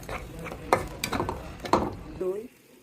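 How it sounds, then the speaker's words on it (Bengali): Ground raisin paste fried in ghee in a pan, stirred with scraping clicks over a soft sizzle, close up and brief. "রোস্টের জন্য কিশমিশটা বেটে নিয়েছি আমি কিছুক্ষণ ঘির মধ্যে ভেজে নেব"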